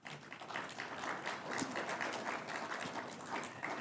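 Audience clapping at a Senate VA Committee hearing: a brisk burst of many hands applauding together, moderately distant and even throughout, with no speech over it.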